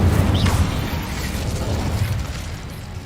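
A fire spell being cast in the Hogwarts Legacy video game gives off a burst of crackling, whooshing game effects with a dull boom, loud and close, and then a low rumbling texture that runs the whole way through.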